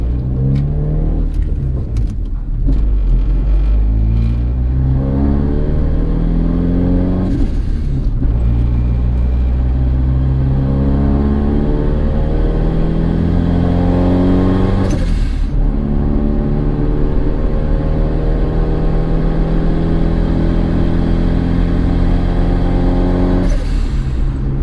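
A turbocharged Honda Accord idles as it warms up with a deep, steady rumble. The engine is sharply revved several times, each rev rising and falling loudly and up close, with no talking.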